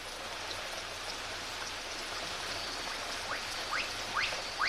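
A steady downpour of rain falls in a forest, a dense, even hiss of drops on vegetation and soil, with a few bird chirps rising near the end.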